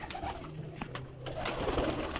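Young racing pigeon cooing at a loft, low soft throaty coos close by over a faint background hiss, with no talking.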